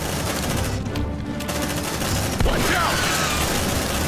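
Continuous rapid gunfire in the sci-fi game Aliens: Dark Descent, loud and dense bursts of automatic weapons with a sharp impact partway through, a voice speaking briefly over the shooting.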